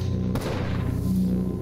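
A single gunshot rings out in the video game Katana Zero, a sharp thud with a boom that stands out against a low, droning music bed, then fades.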